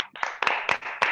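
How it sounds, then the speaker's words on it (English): A few participants clap over an online parent-teacher meeting connection, a brief run of four or five loud, compressed hand claps with sharp onsets. "So please give a round of applause."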